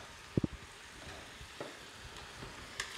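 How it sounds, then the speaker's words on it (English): Onions sautéing in oil in a pan give a faint steady sizzle, broken by a few clicks of utensils near the start, with no talk. "We're simply sauteing them off in some oil."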